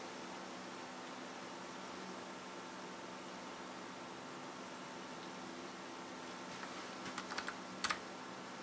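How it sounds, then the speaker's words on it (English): A computer keyboard being tested on a newly assembled PC, with a faint steady fan-like hiss and only a brief cluster of soft key clicks near the end, heard alone. "Keyboard's working."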